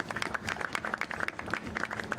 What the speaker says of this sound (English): Go ahead, you can give them a clap